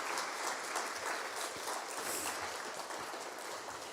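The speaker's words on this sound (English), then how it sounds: "I'd like the cohort to give Alison and Carleen a round of applause for their efforts" A cohort of Year 12 students at a high school presentation assembly gives a steady round of applause, dense clapping from a sizeable crowd sustained evenly throughout without talk.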